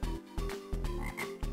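A frog in the Maya the Bee Game Boy Advance game gives repeated low croaks, about four evenly spaced pulses, loud and close with no voices.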